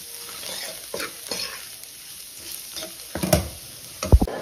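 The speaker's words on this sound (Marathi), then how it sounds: "2 मिनिट तर हा मसाला भाजूनच घ्यायचा बारीक गॅस करून" Spice masala roasts in a pan over a low flame, with soft sizzling under repeated close stirring and scraping and a few sharper clinks of a spoon against the pan.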